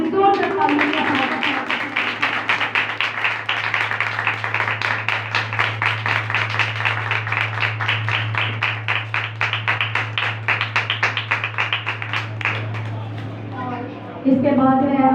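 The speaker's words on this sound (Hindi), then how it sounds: "आप सबकी तालियों की आवाज़ कम नहीं होनी चाहिए, जोरदार तालियों के साथ" A church congregation at a Sunday morning meeting in Pakistan claps together in a steady, rhythmic beat that continues for many seconds, over a low, constant hum, with a voice briefly heard as it ends.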